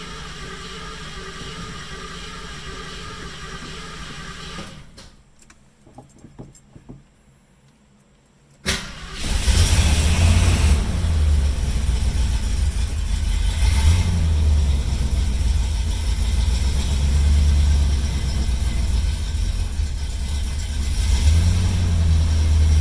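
A carbureted engine in a 1972 Mercury Comet cranks, catches and roars to life loudly, then runs rough and uneven with surging, breaking-up revs close by.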